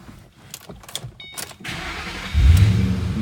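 A 2007 Shelby GT engine cranks briefly and catches, settling into a steady idle after some quiet clicks and shuffling in the cabin.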